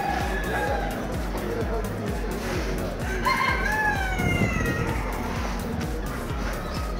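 Poultry at an international poultry fair, including an American turkey, with clucking and crowing calls over a busy hall of birds, while people talk nearby.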